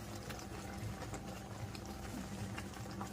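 Water with jaggery bubbles at a low boil in a pot for lapsi, a faint, steady burble with small pops scattered through it, quiet and close with no talking.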